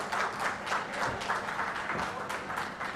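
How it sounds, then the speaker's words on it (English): A crowd at a community event in Delhi gives a guest a round of applause, a fairly faint but steady wash of clapping from many hands at some distance. "So give a big round of applause for him."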